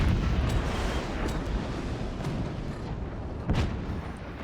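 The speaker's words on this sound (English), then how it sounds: "It is basically a constant barrage." A relentless 20mm cannon barrage in the Forts strategy game forms a dense, continuous roar of overlapping booms and rumbling impacts, loud and unbroken, with a sharper blast standing out near the end.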